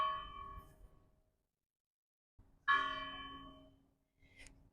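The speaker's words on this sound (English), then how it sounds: "there's the most amazing church bells playing right now" Church bells ring out in a few separate peals with quiet gaps between them, resonant tones that ring on and decay, heard at a moderate distance without talk.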